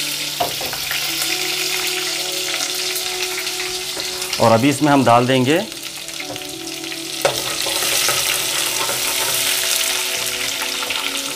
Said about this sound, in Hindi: बिस्मिल्लाह, ये मैंने डाल दिया इसमें अदरक लहसुन।